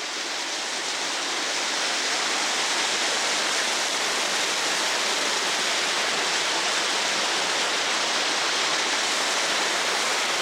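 Steady, dense roar of a waterfall heard up close, a constant broadband rush of falling water with no talking.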